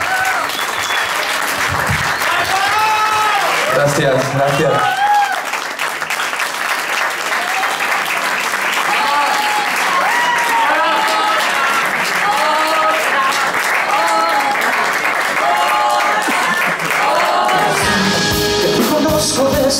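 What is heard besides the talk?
audience applause for musicians at a concert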